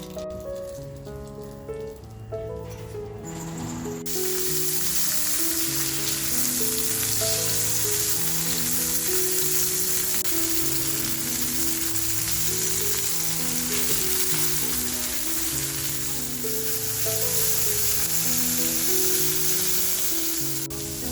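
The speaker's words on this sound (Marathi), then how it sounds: "बोंबील असं छान फ्राय झालाय" Bombay duck fish frying in hot oil, a steady loud sizzle and crackle that holds for about twenty seconds, with a rhythmic tonal pattern running underneath.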